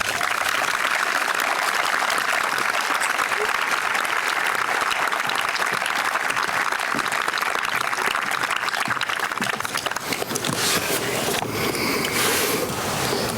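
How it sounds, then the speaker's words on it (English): Audience at the Millis High School Class of 2024 graduation ceremony breaks into loud, sustained applause, a dense wash of many hands clapping without pause for the whole stretch. "give one more round of applause for our student speakers tonight"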